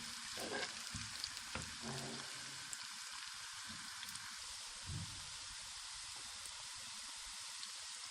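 Steady, hissing sizzle of ginger and garlic frying in hot oil with lightly browned onions, with a few soft clinks and stirring sounds near the start.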